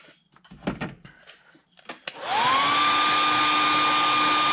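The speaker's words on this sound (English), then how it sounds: "So I'm going to hit it with the dryer one time." A few soft handling clicks and knocks come first, then a hair dryer switches on abruptly to dry airbrushed paint on a fishing lure, settling into a loud, steady whirring blow to the end.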